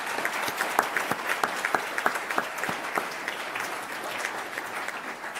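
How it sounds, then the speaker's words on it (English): A round of applause from an audience at a Palm Beach County school district event, steady and moderately loud, with a few sharper, closer claps standing out over the crowd for the whole stretch. "Let's give him a round of applause."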